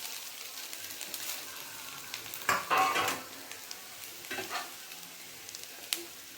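Grated coconut fries in ghee in a pan with a steady sizzle and a few louder scraping stir strokes, heard alone.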